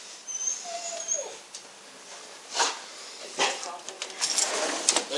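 Puppies whimper with thin, high whines and a short sliding cry, heard beneath people talking outdoors, alongside scattered bumps and rustles.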